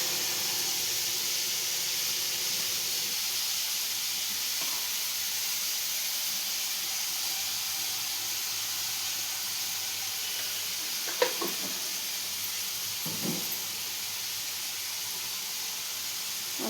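Onions sizzling in a pan after a pinch of salt goes in, a steady broadband hiss throughout with a couple of brief utensil clinks near the end.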